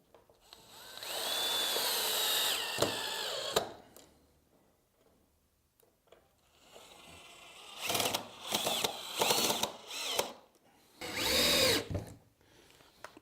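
Power drill driving screws into timber while building a planter bench box frame, with bursts of motor whine around 1–4 seconds and several shorter runs later, separated by quiet pauses.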